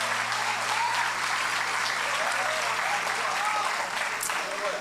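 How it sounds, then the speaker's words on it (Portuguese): A church congregation claps in a long round of applause during a sermon, honoring a man named Marcos; dense, even clapping fills the room, moderately distant, with faint whistles and voices mixed in. "você pode dar uma salva de palmas para a vida do seu Marcos?"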